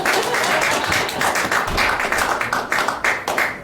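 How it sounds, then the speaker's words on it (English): Comedy-show audience applauding a comedian: dense, continuous clapping throughout, with individual claps standing out near the end as it thins slightly. "Clap for him. Clap for him."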